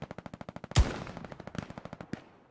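Rapid automatic gunfire in the World War II shooter Hell Let Loose, a steady rattle of evenly spaced shots with one loud, close blast partway through and a few heavier reports near the end.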